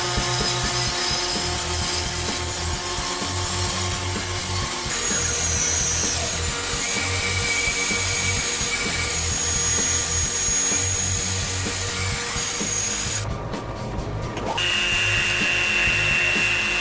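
A bandsaw cuts wooden cross pieces in a workshop, a continuous whining buzz with a steady motor hum and shifting cutting noise, loud and sustained, dipping briefly before resuming.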